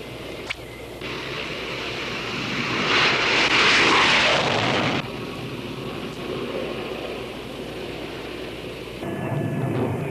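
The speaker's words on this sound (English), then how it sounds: "After refueling, the planes move off in close formation into North Vietnam." Military jet planes flying in close formation toward North Vietnam after refueling, a loud sustained engine roar that swells in the middle and then settles into a steady rumble.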